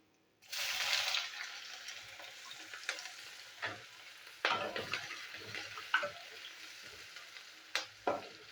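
Chopped onion and green chilli dropped into hot vegetable oil with nigella seeds: a loud sizzling burst at the start, then a steady fry broken by repeated stirring scrapes, close up and without talk.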